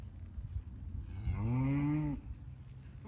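A single cow gives one long low moo close by on a farm while cattle are being sorted through a spring gate, with faint background noise before and after.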